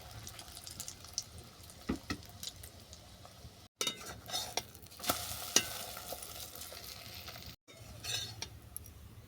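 Oats omelette frying in oil in a pan gives a soft, steady sizzle, with scattered clinks and stirring sounds from utensils and two short breaks in the sound.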